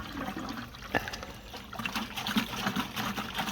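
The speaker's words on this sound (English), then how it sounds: "Just rinse the can out." Water pouring and splashing as a can is rinsed out for an aquarium, a steady close trickle with brief louder sloshes and no talking.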